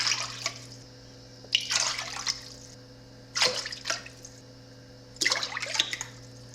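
Water splashes into a container in three separate bursts of a second or so each, fairly close and moderately loud, over a steady low appliance hum, with no talk.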